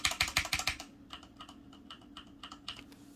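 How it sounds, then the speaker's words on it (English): Keys hammered hard on a Corsair K70 mechanical keyboard, loud rapid clacks at the start easing into lighter, scattered key presses, close up with no talking. "Now I start to hit the keys a bit heavier."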